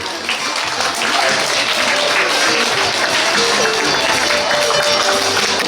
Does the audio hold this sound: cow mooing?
no